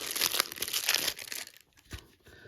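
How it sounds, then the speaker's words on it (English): A knife slicing and tearing through the packaging of the Wraith of the Giants board game, giving crinkly, scratchy plastic and cardboard tearing for about a second and a half, then a few softer rustles. "All right, I'm going to go knife it. I'm knifing it."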